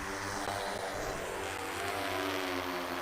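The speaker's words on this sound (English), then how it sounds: "We'll arm the drone. We'll tell it to take off." A crop-spraying drone lifts off outdoors, its propellers giving a steady whirring buzz at moderate distance that holds evenly throughout.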